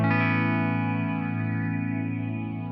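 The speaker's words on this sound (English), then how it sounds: "which is basically a phaser" An electric guitar chord rings through a Source Audio Hypersphere phaser effect, sustaining loud and close with a slowly sweeping, shimmering tone that fades gradually over a few seconds.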